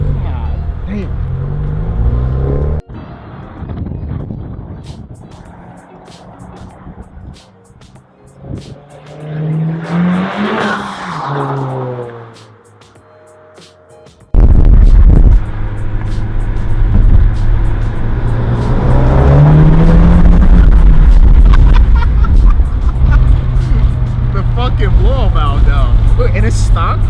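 A 400 hp Honda Civic Type R with an HKS exhaust revs loudly nearby, its engine rising and falling in several bursts with some tire noise, while people talk over and between the revs.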